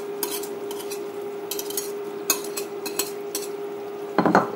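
A spoon stirring egg yolks, sugar and softened butter in a bowl, giving soft repeated scraping clinks at a steady pace over a low steady hum, with a louder clatter near the end.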